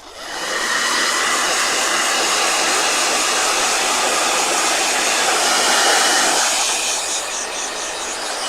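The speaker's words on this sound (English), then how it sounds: "Blow dryer." A blow dryer runs steadily at close range, a loud continuous broadband whoosh that holds for several seconds before easing slightly at the end.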